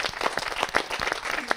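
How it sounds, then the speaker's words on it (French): Audience applause at the end of a residency day, a short burst of brisk, fairly close clapping from a small group with individual hand claps standing out. "Je suis content qu'ils aient applaudi,"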